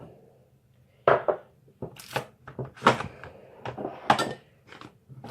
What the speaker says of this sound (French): on va mélanger le beurre avec, mais un petit peu, je mélange